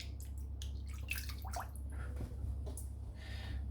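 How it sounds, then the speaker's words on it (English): Water from a tap splashing and trickling as a razor handle is rinsed after a face shave, irregular close splashes and drips over a low running hum, no talk. "Just going to rinse the handle."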